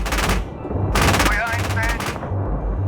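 Rapid bursts of vehicle-mounted weapon fire in the PC tank game Gunner HEAT, several loud short volleys over a low engine rumble, with a voice speaking at times.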